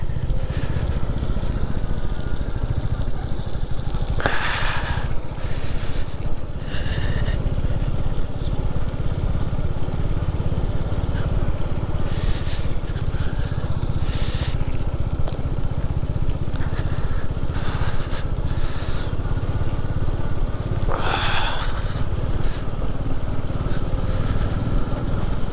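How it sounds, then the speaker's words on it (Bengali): Motorbike ride through heavy snowfall in Arunachal, with a steady, loud engine drone and wind rush throughout and brief higher whines as the engine revs, no talk. "স্নোফল, তার মধ্যে দিয়েই বাইক চলছে।"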